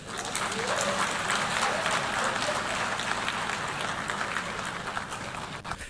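An audience applauds at a political speech by President Bio criticizing the United Nations, dense sustained clapping that runs steadily for several seconds and fades slightly near the end.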